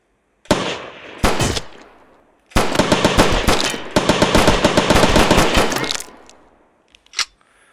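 Rapid gunshots in a virtual reality shooting simulator drill: two sharp single shots, then long loud bursts of fast repeated fire, ending with one final isolated shot.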